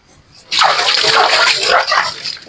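At a home kitchen sink during washing, water suddenly begins to run and splash, a loud close-up spatter that lasts about two seconds with small swells in strength.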